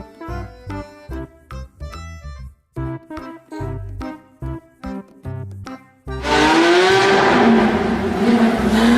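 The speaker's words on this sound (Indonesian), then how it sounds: "Mobil Porsche." A Porsche sports car roars past at speed, a loud sustained engine rush that follows a stretch of rhythmic music at the start.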